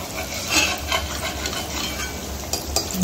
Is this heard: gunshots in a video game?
no